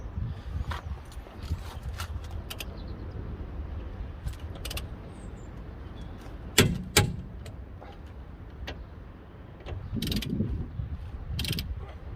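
Torque wrench ratcheting as rear hub bolts are tightened to 140 Nm on a VW T25 (T3 Vanagon) van, a steady run of mechanical clicks with a few louder clunks close by, no talking.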